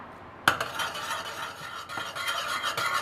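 A sweet dipping sauce for corn fritters thickens over the heat in a pot while being stirred, with a utensil scraping and clinking in irregular strokes over a soft, low bubbling, close and without speech.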